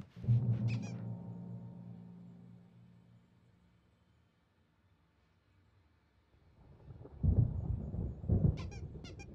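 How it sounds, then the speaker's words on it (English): A deep storm thunder rumble in Alan Wake Remastered rolls and fades, then a second heavier crash swells back near the end, with brief squeaky creaks at both edges. "There's a storm coming. Oh, what a storm."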